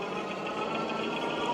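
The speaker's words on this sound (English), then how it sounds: "You can hear that front brake rotor after that braking. Now it's rubbing again." A front brake rotor rubs on a heavy Gotrax Tundra e-bike after braking, making a faint, continuous whirring scrape with a fine rapid texture and no pauses.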